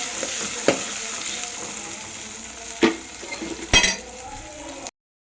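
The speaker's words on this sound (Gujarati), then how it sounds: "હવે આપણે ડુંગળી ટમેટું સાતડી ન જાય ત્યાં સુધી આને પાકવા દેવાનું છે" Onion and tomato sizzle and fry steadily in a pan, a continuous crackling hiss broken by a few sharp stirring clinks of a utensil against the pan before the sound cuts off abruptly.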